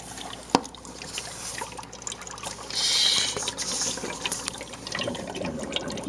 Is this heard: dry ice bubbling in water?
yes